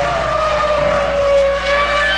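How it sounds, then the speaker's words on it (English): Formula One race car engine during practice at the 2004 Spanish Grand Prix, a sustained high-pitched whine holding steady and loud throughout with a slight rise in pitch, no voices. "If you hear an onboard engine note while we're looking from outside at someone"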